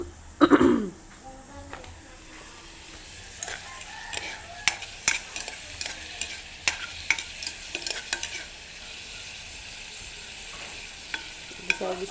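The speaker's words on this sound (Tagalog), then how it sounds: "Gisa lang natin yan." Ingredients for corned beef sinigang are sautéed in a pan with a soft sizzle and intermittent spatula scrapes and clicks. The sound is fairly quiet and close, and a throat clearing is heard at the start.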